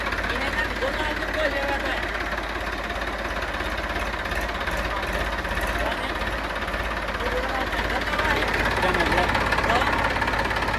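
A diesel tractor engine idles steadily nearby, a low continuous rumble and rattle throughout, with voices talking over it.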